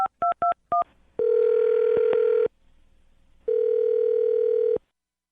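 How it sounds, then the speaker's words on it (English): Several short touch-tone beeps as a phone number is dialed, followed by two long steady ringback tones separated by a pause, clear and close with no voices. "Here we go. I'm going to dial her phone number."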